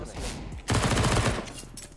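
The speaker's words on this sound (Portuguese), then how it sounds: "Os tiros que a gente toma." Gunfire in the video game CS:GO crackles in a rapid burst of shots, loud and close, with game noise around it.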